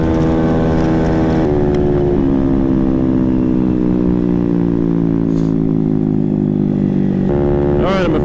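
A modified 50cc scooter engine drones loudly at full throttle and high revs, holding a steady buzzing pitch that dips and climbs slightly, with no voices.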